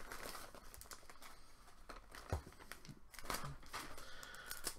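Plastic packaging crinkles and rustles as merchandise is pulled from a bag, with close, irregular crackling bursts and a couple of sharper crunches.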